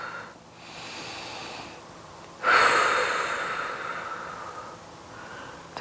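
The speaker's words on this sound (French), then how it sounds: "De grandes respirations pour 4," Deep, slow breathing during a yoga stretch for the upper back, close and quiet, with a long drawn inhale and exhale swelling midway and fading out.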